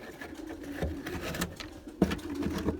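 White Erzurum pigeons coo softly in a loft, low throaty calls repeating irregularly amid faint rustling and background noise.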